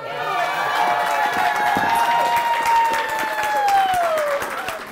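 Cheering and applause from a crowd at a child's adoption hearing, steady and dense for about five seconds, with voices carried along under the clapping.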